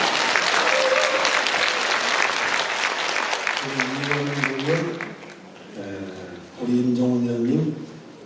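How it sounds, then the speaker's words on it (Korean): Audience applause at a civic festival celebrating a new railway line in Pocheon, with dense clapping across the whole stretch and a voice speaking over it in the second half. "박수 한번 쳐드리겠습니다"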